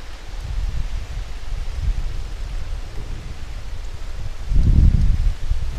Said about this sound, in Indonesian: Ini angin kencang nih, bahaya kita.